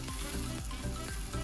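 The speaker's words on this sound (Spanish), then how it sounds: "Echamos los líquidos acá mismo." Wine, chicken broth and lemon juice hit a hot pan for pollo a la francesa, giving a loud, continuous close sizzle with faint rhythmic stirring scrapes, no talking.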